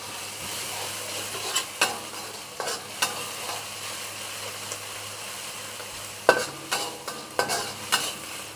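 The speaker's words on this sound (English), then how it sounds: "Stir fry until fragrance" Curry condiments with a pinch of salt are stir-fried for dry curry catfish, a low steady sizzle marked by irregular scraping and knocking of the spatula against the pan, close by and unaccompanied by talk.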